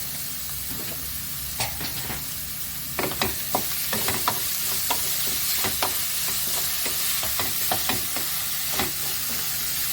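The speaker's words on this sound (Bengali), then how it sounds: "এবার নাড়াচাড়া করে রসুনের গন্ধটা বেরিয়ে আসলে আমি এর মধ্যে পেঁয়াজ দিয়ে দেবো" Finely chopped onions and garlic fry for pav bhaji in a pan, a sizzle that grows louder partway through, punctuated by repeated sharp knocks and scrapes of a spoon stirring, with no speech.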